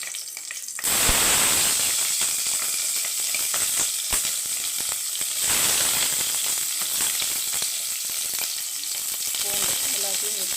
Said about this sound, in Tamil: இதையே நல்லா பொன்னிறமாக வணக்கிக்கலாம்